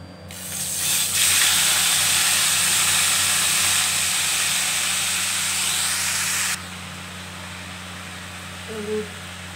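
Green chillies and nigella seeds hitting hot oil in a pan, a loud hissing sizzle that bursts up and holds for several seconds, then drops suddenly to a quieter bubbling simmer with a soft clink near the end.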